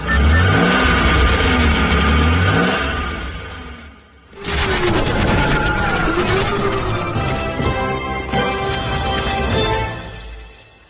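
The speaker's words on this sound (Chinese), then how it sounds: "只是引擎声而已" A car engine revs hard on a racetrack in a forest, rising and falling loudly in two long bursts separated by a brief lull.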